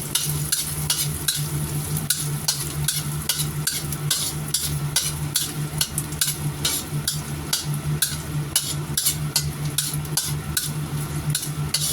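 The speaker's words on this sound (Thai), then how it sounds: "ใส่หอยเชลล์แห้งลงไปผัด" Dried scallops stir-fry in a pan for a Chinese dish, a constant sizzle cut by quick, rhythmic scraping and clinking strokes of a utensil against the pan throughout.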